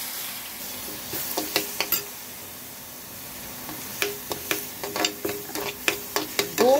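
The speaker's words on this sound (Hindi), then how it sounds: "इन चावलों को रोस्ट करेंगे हल्के हल्के से, क्योंकि हमें इसे रफली ग्राइंड करना है" Rice grains roasting in hot desi ghee in a pan for kheer, with a steady soft sizzle and bursts of crackling ticks and stirring scrapes that come in clusters, fairly close and moderately loud.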